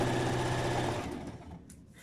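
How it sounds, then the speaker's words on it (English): A sewing machine stitches rapidly in a steady mechanical whir, then slows and stops partway through. "you continue sewing like so, like what I am doing now"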